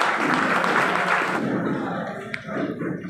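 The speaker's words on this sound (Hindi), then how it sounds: "जोरदार ताली।" Loud applause from an audience at a political party gathering, welcoming a state general secretary onto the stage; dense clapping for about a second and a half, then fading into scattered claps and murmur.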